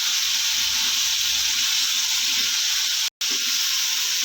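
Steady close sizzling of a curry frying in a pan as chili powder and salt are stirred in, a continuous bright hiss with a brief cut near the end.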